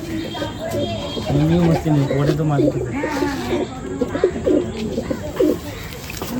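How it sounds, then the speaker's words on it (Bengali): Madrasi pigeons coo close by in a continuous run of low, rolling, throaty calls that overlap one another. "দেখলেই বুঝতে পারবে যে পালসার লাইনেরই পায়রা এগুলো"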